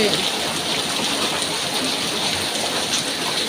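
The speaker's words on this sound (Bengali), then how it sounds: "প্রচুর জল বৃষ্টি হচ্ছে" Heavy monsoon rain pours down steadily, a dense, continuous wash of drops striking surfaces close by, with no pauses and no voices.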